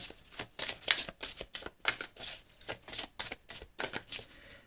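Oracle cards being shuffled by hand in a series of quick riffling bursts, about ten in steady rhythm with short pauses between, close and clear with no talking.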